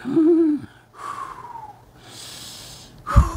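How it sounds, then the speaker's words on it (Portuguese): A person breathes deeply during a smartwatch-guided relaxation exercise, with a few separate audible inhales and exhales, some wheezy or snorting, close and moderately loud with quiet pauses between them. "Você puxa o ar, inspira e respira."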